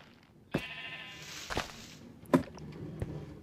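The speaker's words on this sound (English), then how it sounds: "so we've got all of our sheep in place" Sheep in the Minecraft game bleat in a wool farm, several short wavering bleats spaced a second or so apart with sharp clicks and taps between, close and clear without talk.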